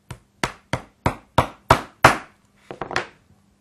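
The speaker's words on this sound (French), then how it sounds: "un clou et un marteau, afin de les percer préalablement avant de les enfiler pour les monter sur votre collier" A hammer strikes a nail through stacked leather scraps in seven sharp, evenly spaced blows that grow slightly louder, followed by a pause and a quick cluster of lighter taps, close and without talking.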